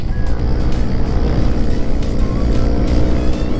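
A motorized tricycle rounds a bend, its engine a steady, loud droning rumble that stays close and continuous throughout, with no voices.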